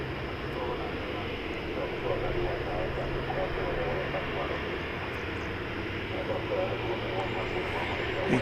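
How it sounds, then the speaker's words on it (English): A 22-year-old Delta Airbus A320 jet at DFW Airport at daybreak, bound for Salt Lake City: a steady, broad engine roar that holds evenly throughout without fading. "Here's Delta Flight 1291. It's going to Salt Lake City. It's an Airbus A320."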